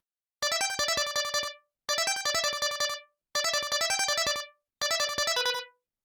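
A bright, buzzy synth plays rapid repeating notes in four short bursts separated by brief silences, harsh and metallic in tone.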